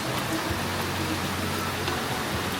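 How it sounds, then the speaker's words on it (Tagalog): Heavy rain falls in Bangkok, a constant dense hiss of downpour with a faint low hum beneath, close and uniform from start to finish. "Lakas ng ulan."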